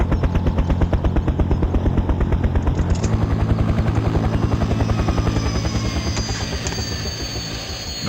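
A helicopter in the video game Farming Simulator 17 flies at high speed, its steady, loud rotor thump and engine whine running unbroken throughout with no talk.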